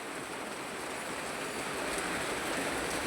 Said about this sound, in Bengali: দেখতে পাচ্ছ বৃষ্টি পড়ছে